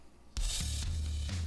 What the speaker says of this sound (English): That's everything compressed, and then I distort it.